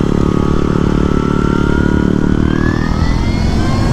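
A 2018 Alta Redshift SM electric supermoto is ridden, producing a loud, continuous drone with a rising and then falling whine that shifts in pitch as it moves.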